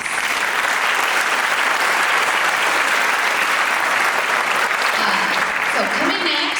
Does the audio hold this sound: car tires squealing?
no